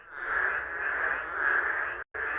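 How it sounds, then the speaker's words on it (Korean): At night, frogs and insects call from a city park pond near Guryongsan in Cheongju, where endangered narrow-mouthed toads breed. Their dense, steady chorus runs on without pause until a brief cut near the end. "어둠이 내리자 여기저기서 풀벌레와 개구리의 울음소리가 들려옵니다."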